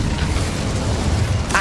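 Incendio fire spell cast in the video game Hogwarts Legacy, a loud, dense roaring whoosh of flame that fills the whole moment, ending in a sharp burst at the close.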